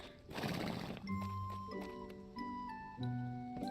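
A horse neighs in a short whinny in Story of Seasons: Grand Bazaar, followed by bright tonal chimes and steady clip-clop taps, game-like and clean with no talking.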